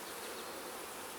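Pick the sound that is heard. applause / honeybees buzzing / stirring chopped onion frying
honeybees buzzing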